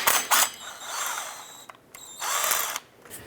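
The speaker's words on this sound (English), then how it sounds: "We're going to go ahead and use our Allen swivel extension and our impact to remove all of these." An impact wrench on an Allen swivel extension spins Allen bolts out of the front drive shaft flange on a 2002-2009 Jeep Liberty, firing two close, loud rattling bursts with a short pause between them.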